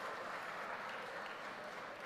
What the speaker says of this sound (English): Are you applauding or are you asking me to cut down my speech?